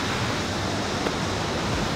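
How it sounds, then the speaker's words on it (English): A waterfall rushes nearby outdoors, a dense, steady broadband roar of falling water filling the scene with no pauses. "It's a whole waterfall over there."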